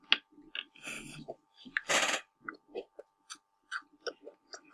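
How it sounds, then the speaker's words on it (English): Someone chews an Oreo cookie up close, with soft crunching bites and wet mouth clicks in an irregular rhythm, including one louder crunchy burst. "I'm eating an Oreo."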